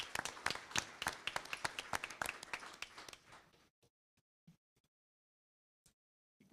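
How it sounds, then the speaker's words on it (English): A school board meeting crowd gives a round of dense, close applause for about three and a half seconds, then it fades to a few scattered individual claps in a quiet room. "let's give him a round of applause."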